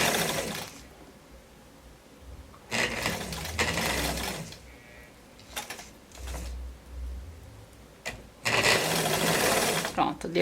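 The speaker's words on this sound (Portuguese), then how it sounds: "Aí eu passo uma costurinha aqui, vai e vem." A sewing machine stitching a jumpsuit seam back and forth, with several close whirring bursts of running stitches separated by pauses, and a person talking between bursts.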